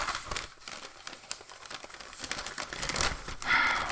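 A sheet of paper crinkles and rustles in close, irregular bursts, with sharper crumpling toward the end and no voices.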